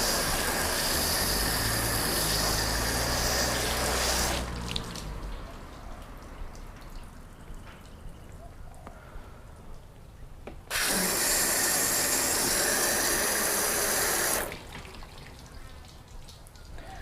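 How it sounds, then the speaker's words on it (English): Garden hose on a shower spray setting running over a car's coated paintwork, a steady broadband hiss in two bursts with a quieter pause between. "Okay, so the hose in shower function."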